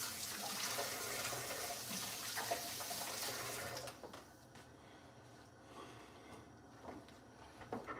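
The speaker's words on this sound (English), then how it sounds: "I have to wash my hands." Water runs from a kitchen tap as hands are washed while cooking a beef and Italian sausage lasagna soup, a steady broadband rush for about four seconds that then cuts off, leaving faint clicks and handling noise.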